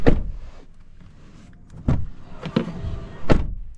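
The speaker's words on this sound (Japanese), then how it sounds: "でドア閉めた音はこんな感じですね。" The rear door of a 2020 Toyota Yaris Cross shuts with a few solid, close thuds and clunks against a quiet background.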